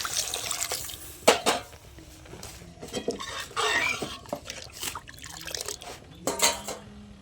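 Water poured into a pan of fried mung dal in a home kitchen, with wet splashing and sloshing broken by sharp utensil clinks against the pan, close and moderately loud, no talking.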